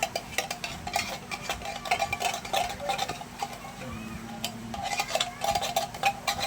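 Ingredients are stirred and mixed in a bowl, a steady run of light clinks and scrapes from a utensil against the bowl, close and fairly quiet, with brief faint talk in places.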